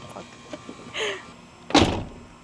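A truck door closing after its door pins were replaced, a brief creak followed by a single loud solid shut, heard up close.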